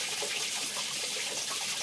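Water released to drive a traditional watermill in Gilgit gushes in a steady, loud, continuous rush with no break.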